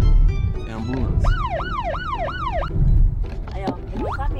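An ambulance siren wails on the street in several rapid rising-and-falling sweeps. It is loud and close, with traffic noise and faint voices around it.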